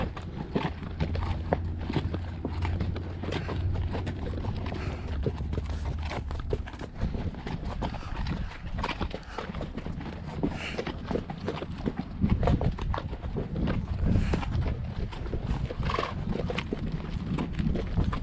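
Horse hooves clip-clop steadily on a dirt trail during a guided horseback ride through Garden of the Gods, an unbroken walking rhythm heard close up, with a faint voice now and then.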